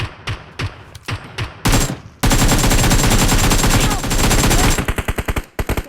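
Rapid automatic gunfire in the mobile battle royale game PUBG Mobile, played on a Huawei Mate 20X: short bursts give way to a long, loud sustained volley, then a string of evenly spaced single shots.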